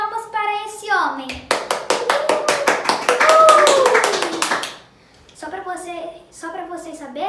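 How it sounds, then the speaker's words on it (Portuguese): A short burst of hand clapping from a small group, quick and steady, with voices talking before and after and faintly underneath. "Que tal darmos uma salva de palmas para esse homem?"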